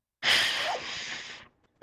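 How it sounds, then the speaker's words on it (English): Someone blows their nose in one forceful, breathy honk lasting just over a second, close to the microphone, followed by a brief silence. "Excuse me for blowing my nose."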